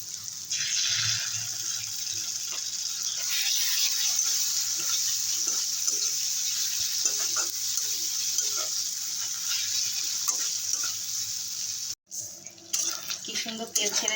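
Tomato paste fries in a pan for a dhaba-style egg paneer curry, with a steady broadband sizzle and occasional scraping stirs running continuously, briefly dropping out near the end before resuming.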